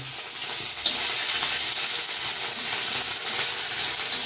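Cooking water left from boiling bottle gourd is poured into a hot frying pan for lau posto, raising a steady, fairly loud sizzle and hiss that holds evenly without any talk.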